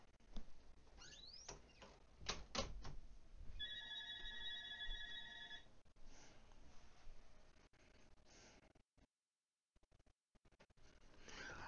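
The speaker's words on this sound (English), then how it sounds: "I do apologize for the phone ringing." A telephone rings in a room during a gaming session, a bright repeated electronic trill pulsing for a couple of seconds amid quiet background noise, followed by brief dropouts into silence.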